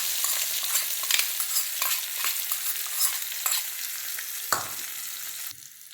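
Hot tempering with curry leaves is tipped into a ground shallot-garlic chutney and stirred. A soft sizzle runs under repeated scraping stir strokes, with a sharper hiss burst near the end. Close by, and no one speaks.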